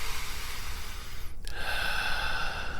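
A slow, deep breath drawn in and let out in a calm, close setting, steady and unhurried with a brief pause midway, no talking over it.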